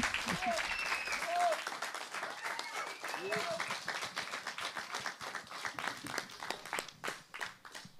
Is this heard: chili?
no